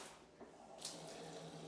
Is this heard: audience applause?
no